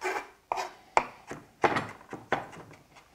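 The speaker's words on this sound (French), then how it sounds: "cette peau, je vais la couper le plus finement possible. Je vais essayer de couper en tout petits cubes" A knife finely dices citrus peel into tiny cubes on a board, about seven crisp, uneven chops and thunks, close and clear with no talk.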